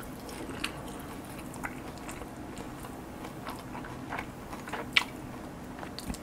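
Close-up crunching and chewing of green onion flavored Chex cereal, soft irregular bites over a steady background hiss with no talking.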